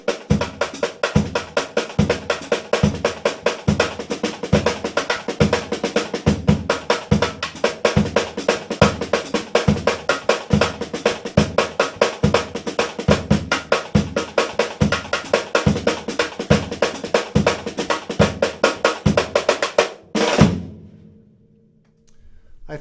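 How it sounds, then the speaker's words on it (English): Sped-up Brazilian samba on a full drum kit, the bass drum thumping beat two like a surdo under dense, driving snare and cymbal strokes, loud and continuous until a final crash rings out and fades. "if I play a sped up version of it and just play beat 2 on the bass drum"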